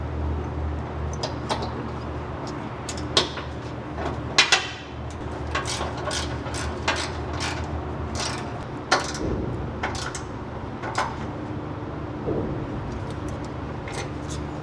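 A ratchet drives the screw on a Ford Raptor truck's rear bumpstop, giving scattered close, sharp metallic clicks and taps over a steady low background hum.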